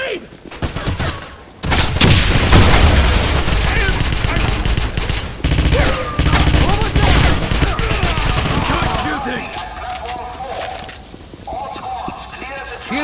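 Gunfire and a grenade blast from the 2009 Wolfenstein shooter, with sustained loud bursts of automatic and rifle fire through most of the stretch, heavy impacts near the start, and shouted voices mixed in.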